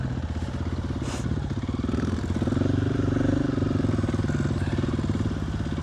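A dirt bike ridden along a rocky mountain trail gives a continuous, close, loud engine drone with rapid pulsing and a slight rise and fall in revs, plus faint clatter over the rough ground.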